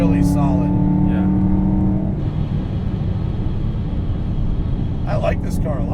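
A 620 hp VF Engineering supercharged BMW E93 M3 drives along with a loud, steady engine drone and road rumble throughout, while people talk over it.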